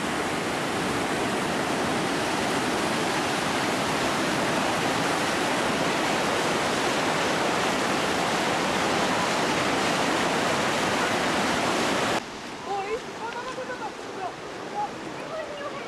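Darebin Creek in flood, a muddy torrent rushing in a loud, steady roar of broadband water noise that cuts off abruptly near the end, leaving faint background and talk.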